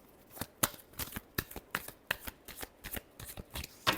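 Tarot cards are shuffled by hand up close, a rapid series of crisp riffling snaps and soft slides at a quiet, low level, with no voices.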